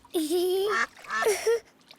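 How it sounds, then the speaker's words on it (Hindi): Two drawn-out, nasal quacks from a cartoon duck, close and fairly loud, the second call wavering in pitch, with a short pause between them. "बतख ने हॉपिटी को वैक वैक किया।"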